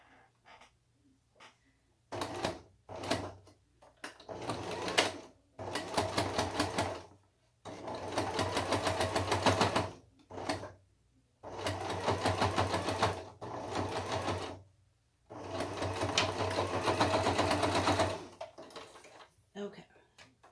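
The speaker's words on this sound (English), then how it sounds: "you're sewing through a lot of layers of fabric" A sewing machine stitches through several layers of fabric for a cloth face mask, with repeated runs of rapid mechanical whirring broken by short pauses, close and clear.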